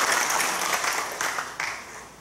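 Audience clapping together at a Seoul-area men's mission association general assembly church service, a steady mass of applause that swells and then tapers off over a couple of seconds.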